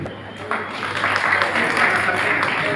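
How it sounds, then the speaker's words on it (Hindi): Applause from a crowd at a public free legal aid camp in Thakurgangti. The clapping is steady and moderately distant and swells after the first half second, with a voice over it through much of the clip. "जोरदार ताली।"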